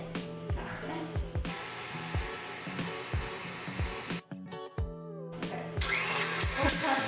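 Electric hand mixer beating room-temperature butter and sugar for cake batter, a steady motorized whir with rhythmic bumps as the beaters hit the bowl, briefly stopping near the middle before resuming louder.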